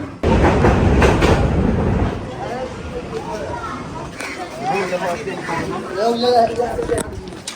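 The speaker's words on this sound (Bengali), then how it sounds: "একটু পর পর ট্রেন যায়" A train rumbles past near a mosque, a steady loud rolling noise that eases into a lighter rattle, with people's voices talking over it through most of the stretch.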